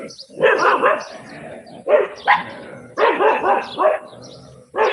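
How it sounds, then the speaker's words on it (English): A dog barks in repeated bursts, loud and close, with short pauses between volleys of sharp yaps. "she's barking on someone."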